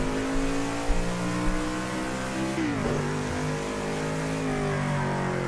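A NASCAR race car in the racing game Project Cars 2 drones at steady high revs, its engine note dipping briefly through a gear change before climbing again, loud and continuous with no talk.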